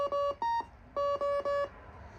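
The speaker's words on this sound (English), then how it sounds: "the Gen 2 Furbies the beeps I think might get lower pitched once you do the EEPROM test" A Gen 2 Furby toy in test mode gives a string of short electronic beeps: two quick tones, a pause, then three more in a clipped rhythm, clear and close against a quiet background.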